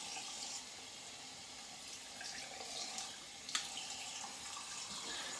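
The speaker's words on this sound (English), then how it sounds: "I'm gonna rinse down here" Tap water runs steadily into a sink while rinsing after a shave, a quiet, even hiss with a small splash near the middle.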